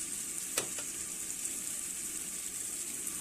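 Canned tuna fries with softened tomatoes in oil in a village home kitchen, an even, close sizzle broken by one sharp utensil clack near the start and a softer knock after it.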